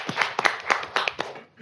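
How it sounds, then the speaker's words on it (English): Clapping from a few people at a college board of trustees meeting, applauding a graduating student, a short uneven burst of claps up close that fades out within under two seconds. "That deserves a round of applause."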